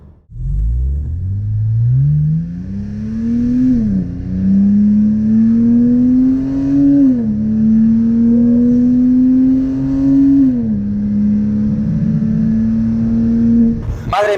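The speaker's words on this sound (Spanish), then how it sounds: "Cuando dejo de acelerar, escuchas la admisión" A Porsche Cayman with a Stage 2 tune revs up from idle into a loud, close, sustained drone, its pitch stepping up and dropping between shifts, with intake noise audible as the throttle lifts.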